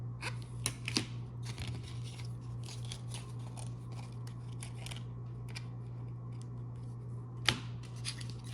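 Scissors snip repeatedly at close range during repair of an air vent and dash trim in a Toyota Tacoma truck, with clusters of crisp cuts and one sharp snap near the end over a steady low hum.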